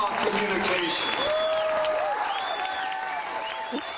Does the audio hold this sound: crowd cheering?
yes